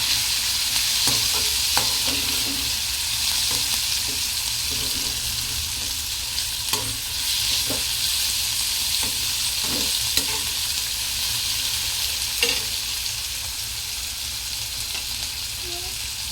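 Coriander leaves and mixed vegetables for vegetable khichdi are stirred in a hot pan, giving a steady close sizzle with scattered scraping clicks from the spoon throughout.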